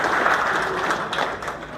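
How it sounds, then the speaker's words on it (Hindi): Audience applause at a Polycab India company event for electricians, a steady wash of clapping from a crowd across the whole stretch with no voice over it. "तो ताली किसके लिए होनी चाहिए?"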